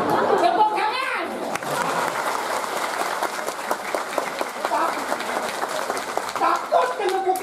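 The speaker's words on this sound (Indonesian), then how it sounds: "tepuk tangan" Audience applause fills a Balinese arts festival performance of the Ngunying tradition at an art center, steady sustained clapping from a large crowd with chatter and voices mixed in throughout.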